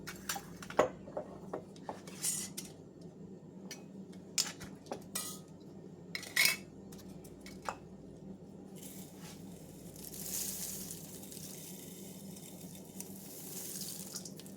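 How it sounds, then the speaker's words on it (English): Dehydrated carrots tipped into a pot of keto veggie soup, heard as scattered light clatters and clinks of dry pieces and utensils, then a soft running-water wash toward the end, fairly quiet and close. "I think I am going to add in a little bit more of the carrots."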